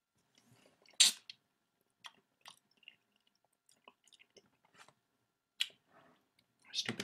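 Close chewing and crunching of sour grapefruit, a few sharp bites scattered among quieter wet mouth sounds, with brief gaps between them.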